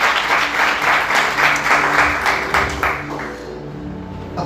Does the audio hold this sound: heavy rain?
no